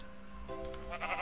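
A Minecraft sheep gives a faint, brief in-game bleat, quiet and alone with no voices.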